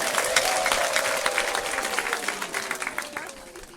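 A church congregation gives a steady wash of applause in response to a pastor's sermon. The dense clapping starts loud and fades gradually, with a faint sustained voice or tone running underneath.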